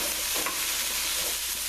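Soft, steady sizzling of vegetables in a pan, a gentle continuous hiss with occasional faint stirring, no voices.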